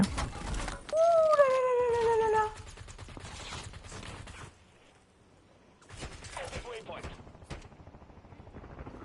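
Gunfire in a video game crackles in rapid bursts and scattered shots under synthetic game tones, loud at first, then fading and returning in a second volley.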